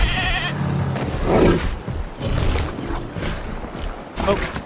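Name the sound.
goat bleating in the video game Jurassic World Evolution 2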